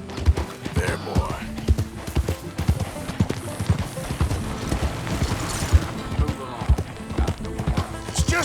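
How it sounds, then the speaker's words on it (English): A donkey in Red Dead Redemption 2 during a farm robbery, its hooves clip-clopping steadily with a braying call, heard under voices talking. "It's just a donkey, idiot."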